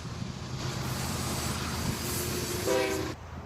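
A long freight train carries military tanks toward a seaport. Its steady rolling rumble and wheel noise pass at moderate distance, and a loud horn blast sounds briefly near the end.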